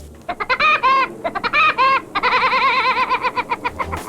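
A male pileated woodpecker in a winter forest in northern New Jersey gives repeated loud, ringing calls, rapid series of wavering notes in bursts close by with no talk.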